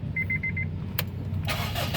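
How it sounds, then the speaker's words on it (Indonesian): A 2003 Honda CR-V 2.0 automatic starts up: a short series of dash chimes, a click, then the starter cranks and the engine catches into a steady idle, heard up close. "Oke, coba kita nyalakan dulu mobil."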